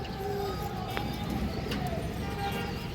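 Soft, steady cooing from a Sapchila pigeon pair runs through the whole stretch, low and close, over a constant background hum with faint chirps.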